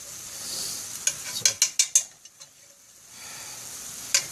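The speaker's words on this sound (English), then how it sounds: "the butter is melting in the cast iron pan." Margarine sizzles as it melts in a cast iron pan, a steady high hiss with a few sharp clinks and taps of a utensil stirring through the middle.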